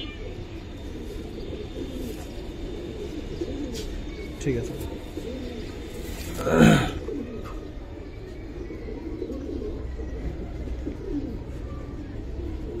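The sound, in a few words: gribaz pigeons cooing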